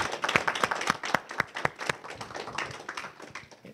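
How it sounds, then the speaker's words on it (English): Applause from a university audience honoring event organizers, a burst of sharp, uneven hand claps from a modest crowd that stays steady for a few seconds, close and moderately loud with no voices over it. "please join me in a round of applause for everyone"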